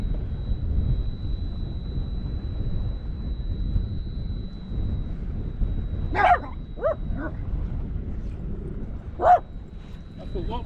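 Dogs bark a few times from some distance on a shoreline during a sea fishing session on the Humber, giving two short bursts of yapping over a steady low rumble of wind and engine noise.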